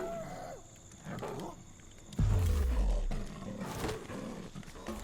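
A big cat predator in the video game Ancestors: The Humankind Odyssey lets out one loud, deep roar that sweeps downward, heard over softer game ambience with a voice talking nearby.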